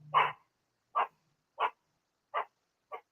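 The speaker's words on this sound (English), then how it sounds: "I hate this fucking dog." Dog barking nearby, five separate barks spaced roughly evenly, the first loudest and the rest fading a little, with no talk in between.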